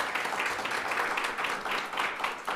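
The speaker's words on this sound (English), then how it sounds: "Let's give them one more round of applause" Steady, dense applause from an audience at a photo challenge event, a continuous patter of many hands clapping at fairly even loudness throughout.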